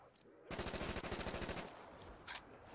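Rapid automatic gunfire in Black Ops 3 custom zombies, a fast burst of sharp, evenly spaced shots lasting about a second, followed by a brief quieter shot and game noise.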